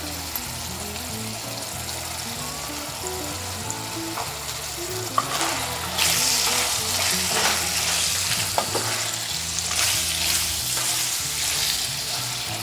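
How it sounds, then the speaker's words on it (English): Sloppy joe mixture with chopped parsley stirred and cooked in a pan, a constant sizzle and bubbling beneath repeated scraping strokes of the spoon that grow louder and busier in the second half. "Add the chopped parsley. Stir and cook 1 minute more."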